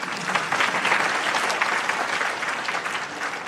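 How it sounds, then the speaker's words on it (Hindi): An audience at a Gita Deepotsav spiritual discourse gives sustained, dense applause, a steady even wash of clapping that holds for several seconds with no speech over it. "बजाओ ताली।"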